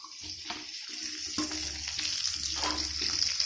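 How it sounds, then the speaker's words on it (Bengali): Sausages frying in a pan for pasta, a steady close sizzle with occasional stirring scrapes and clicks throughout. "দেখো সসেজ ফ্রাই হচ্ছে"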